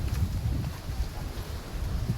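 Strong wind buffets the microphone with a constant low roar and rushing noise, no voices, at the old steps in Junagadh.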